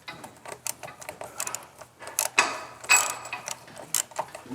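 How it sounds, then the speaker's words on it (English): Ratchet wrench unscrewing the front axle nut on a BMW R1250GS motorcycle, giving quick, close, fairly quiet clicking ratchet strokes in short irregular bursts with metallic rattles between. "I'm unscrewing the axle nut before taking the wheel off"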